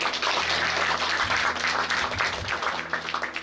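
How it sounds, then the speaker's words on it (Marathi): Audience at a Buddhist Dhamma sermon ceremony in Karegaon breaks into applause, a dense burst of clapping from a crowd that swells and fades over a few seconds, alone without talk. "3 वेळा टाळ्या वाजवा बरं जरा."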